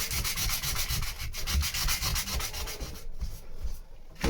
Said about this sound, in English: get this all sanded ready for next time